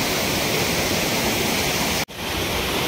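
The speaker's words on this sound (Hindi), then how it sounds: "देखा होगा आप कितना मस्त वाटरफॉल है" A waterfall at Kimadi near Dehradun gives a steady, full roar of falling water, close and continuous, with one sharp break in the sound near the end and no voices.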